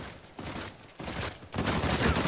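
Rapid bursts of gunfire and booming explosions from the Uncharted 4 multiplayer video game, a dense continuous barrage that grows louder toward the end.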